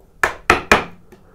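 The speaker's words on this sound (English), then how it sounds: "For these little ones, I'm just going to chop in from the outside as opposed to coming down at an angle." A straight-sided chisel chopping into wood for houndstooth dovetails: three sharp, close, evenly spaced woody strikes, then a fainter fourth tap.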